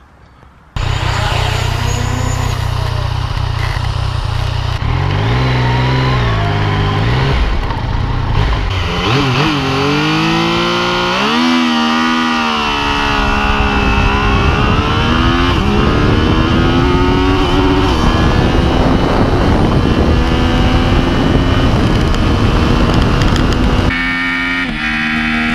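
Yamaha MT-09 SP motorcycle accelerating hard, its loud engine note climbing through repeated rising sweeps and gear changes for over twenty seconds, close and steady before cutting off abruptly.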